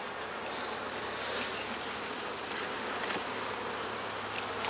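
Honey bees buzz steadily and densely at an open hive during an inspection, a constant close swarm drone filling the whole stretch with no talk over it.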